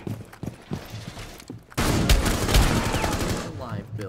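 Nomad's pistol in Rainbow Six Siege fires a few quick shots, then a dense rapid burst of loud close gunfire rolls on continuously amid game noise.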